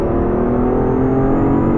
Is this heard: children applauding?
no